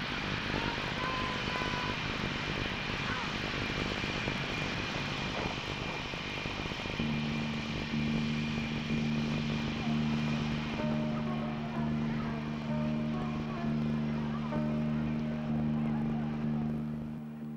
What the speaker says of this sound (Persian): با یک هواپیمای ایران ایر وارد کامبرا پایتخت استرالیا شدند.